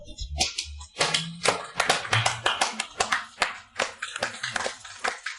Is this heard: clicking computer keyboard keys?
no